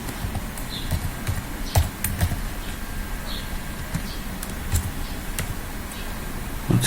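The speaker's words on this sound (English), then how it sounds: "Sorry about my typing," Someone types on a computer keyboard while working on a data analysis program, with irregular clusters of clicking keystrokes heard fairly close against a faint background hiss.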